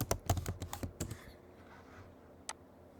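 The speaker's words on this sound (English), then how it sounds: "Now I just go into the internet and I just type" Rapid typing on a computer keyboard, a quick run of close, crisp key clicks for about a second, followed by quiet and one final isolated keystroke.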